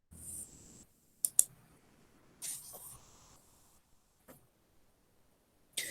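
Sharp clicks of a computer mouse in a quiet room: two quick clicks, then several single, sparse clicks with soft hissy noises between them.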